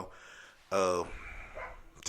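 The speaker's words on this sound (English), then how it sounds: "Excuse the dog, he wants to talk" A single loud dog bark, harmonic and sharp, breaks a quiet room, followed by a softer yelp or whine trailing off.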